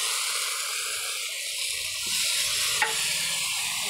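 Mutton is stirred in a pot over a traditional earthen stove, giving a steady soft hiss of cooking with a faint scrape and a single small knock near the end.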